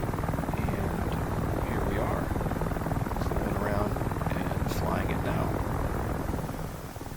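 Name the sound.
AH-6J Littlebird helicopter in DCS World video game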